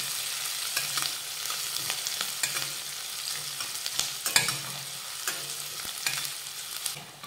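Finely chopped onion sautés quietly in a pan over low heat, with a soft, continuous sizzle. A spatula scrapes and clicks against the pan in scattered strokes, and no one speaks.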